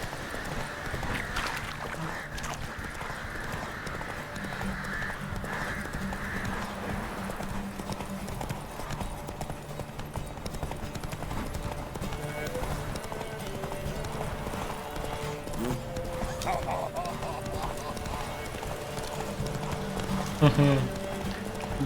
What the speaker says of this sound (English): This horse was crazy.